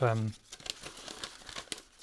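A large roll of tracing paper crinkles and rustles in steady, close handling noise, with a brief voice at the start and speech continuing faintly beneath.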